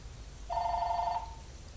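A telephone gives a single short electronic ring, a bright warbling trill lasting under a second over a low background rumble.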